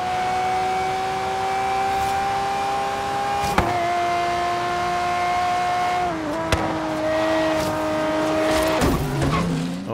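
Car engine racing in the video game Forza Horizon 3, holding a steady high whine with gear-change dips and a few sharp clicks, then a tire squeal near the end. Loud and close throughout, with no voices.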